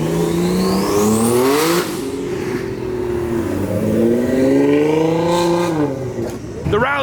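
A turbocharged 370 and a Porsche 992 Turbo S accelerate hard while leaving a car show. Loud engine tones rise and fall in pitch across two pulls, with a voice talking over the engines.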